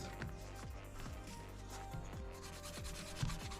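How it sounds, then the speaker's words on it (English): Edges of a leather wallet being burnished, a quiet repeated rubbing with short back-and-forth strokes in a steady rhythm, close up and soft. "this is the final step, burnishing this wallet."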